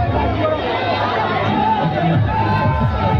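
A large crowd at the Bharat Jodo Nyay Yatra rally makes a thick, constant hubbub of many overlapping voices with some cheering, loud and close all around.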